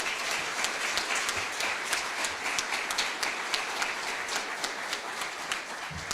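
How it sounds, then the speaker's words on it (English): A ceremony audience keeps up steady applause at a military colonel's retirement, dense and even throughout with scattered sharp individual claps. "So if you could give her one more huge round of applause."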